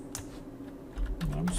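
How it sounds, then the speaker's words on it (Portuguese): A word is typed on a computer keyboard as a few quick, light key taps, a cluster near the start and another toward the end, soft and close against a quiet background hum. "Aqui vou clicar duas vezes e digitar cozinha."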